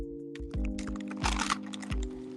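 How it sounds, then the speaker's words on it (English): Rapid typing on a computer keyboard, a quick run of close clicks and clacks with a denser burst in the middle, over a steady low hum, no voices. "I'm typing all fast."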